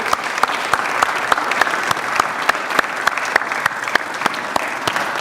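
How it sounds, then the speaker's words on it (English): Audience applause at a service awards ceremony, a steady, fairly loud wash of clapping from a crowd with sharp individual claps standing out throughout, no talking over it. "how about a round of applause for all those people that made today possible?"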